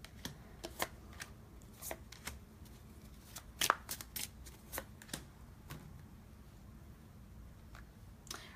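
An oracle card deck being shuffled by hand during a tarot-style reading: repeated soft riffles and sharp card snaps spread irregularly over several seconds, close and fairly quiet against a low room hiss.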